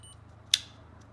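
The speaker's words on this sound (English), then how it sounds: "You can hear it beeping. That means you've got continuity." A single short high-pitched electronic beep from a continuity tester checking a Yamaha Banshee switch, over a low steady hum, brief and sharp, then quiet.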